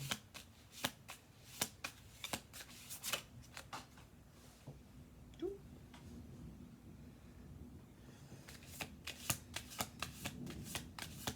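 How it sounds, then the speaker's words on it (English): Cards being riffled and bridged repeatedly, crisp bursts of flapping clicks in quick succession with a brief quieter pause in the middle. "I'm gonna do 2 more shuffle throughs of this"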